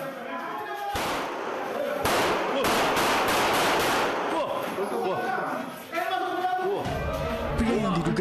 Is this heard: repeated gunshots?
yes